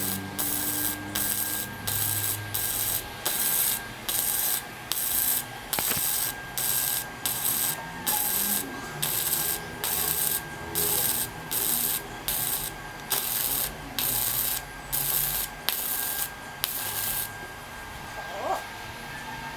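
Rhythmic strokes of a sander or grinder smoothing a welded thin steel workpiece, regular repeated bursts close and fairly loud, with a faint hum underneath.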